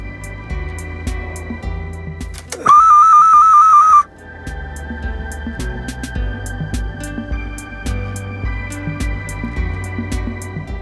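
A ceramic clay whistle handmade by a potter in Opishnia gives one loud, steady, shrill whistle lasting about a second and a half, over a busy background of clatter and murmur.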